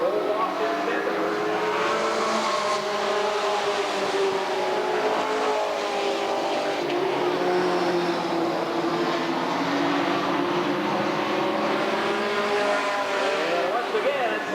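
Ford and Chevy sportsman stock cars race at Redwood Acres Raceway, a dense, loud roar of several engines revving and droning continuously, with a commentator talking over the racing throughout.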